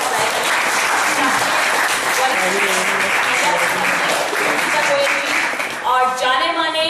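Theatre audience at a Jaipur stage event applauding in a loud, continuous wash of clapping, with a voice rising over it near the end.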